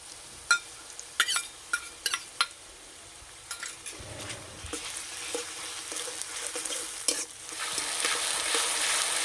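Garlic paste is added to chopped onion frying in a pan for chicken posto, with clicks and scrapes of a spoon early on, then a hiss of frying that builds to a loud, steady sizzle.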